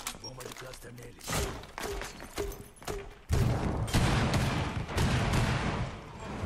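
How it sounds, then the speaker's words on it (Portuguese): Cluster charge detonations in the video game Rainbow Six Siege: a rapid string of sharp, loud blasts in quick succession, followed by heavier booming bursts, with a voice talking over the gunfire-heavy action. "Bomba de cluster neles."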